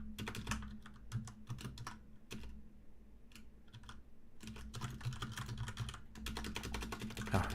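Fast, uneven keyboard typing on a computer, key clicks coming in close bursts separated by short pauses, alone without talk.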